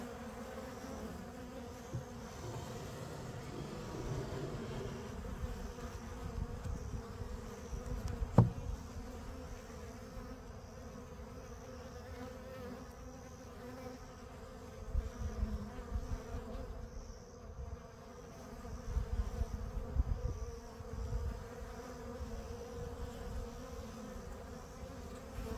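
Honey bees buzz steadily at an opened hive during a package check, a dense near hum that swells and eases throughout, with brief handling bumps and no talk.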